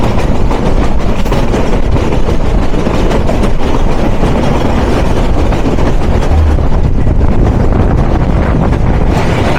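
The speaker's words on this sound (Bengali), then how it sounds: "পঞ্চগড় থেকে ঢাকা অভিমুখী ট্রেন নাম্বার 706 টাউন একতা এক্সপ্রেস ট্রেনের" Panchagarh-to-Dhaka Ekota Express, train 706, running at speed with a steady, loud, continuous roar of wheels and wind buffeting the microphone throughout, no voices.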